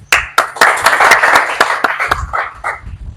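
About a dozen sharp, close hand claps come in an uneven rhythm at a religious gathering, growing softer and more scattered toward the end.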